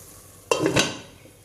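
A teaspoon of ghee hits chicken oats biryani in a pot on low heat, giving a sudden close burst of sizzling and spoon clatter that quickly fades to a quiet hiss.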